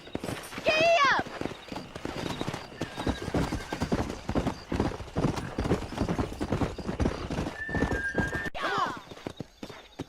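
Horses galloping in the Red Dead Redemption western game, with rapid, close clip-clop hoofbeats throughout and a couple of whinnies, while voices talk over the riding.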